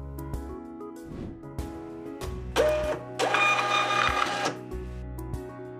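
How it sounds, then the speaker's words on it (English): USB label printer running off a shipping label from an Android device: a loud, steady mechanical whir and feed rattle lasting a couple of seconds, framed by quieter clicks and motor starts before and after. "If a single label printed and fills up the entire label, your printer works properly."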